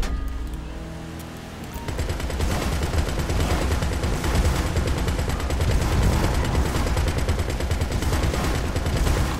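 A gunner's weapon fires in GTA 5 Online during a Target Assault race, rapid continuous bursts over a roaring vehicle engine, loud and sustained after a quieter opening.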